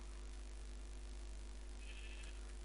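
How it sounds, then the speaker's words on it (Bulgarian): A sheep in Minecraft gives a single short bleat, faint and half-buried in a loud, steady hiss of background noise. "Ето я и другата овца."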